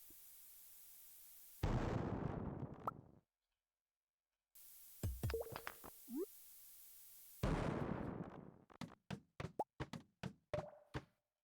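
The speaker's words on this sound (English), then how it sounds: "Let me just start bombing" Several bomb blasts go off in the mines of Stardew Valley, a video game: loud booming bursts separated by silent gaps, then a quick run of sharp popping hits near the end.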